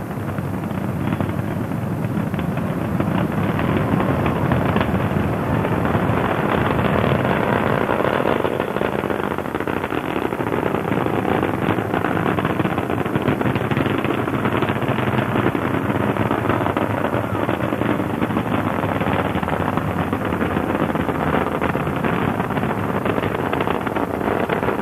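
Space Shuttle Discovery on the STS-29 launch, a continuous broad rocket-engine roar with a steady rumbling, wind-buffeted wash from a distance, no voices over it.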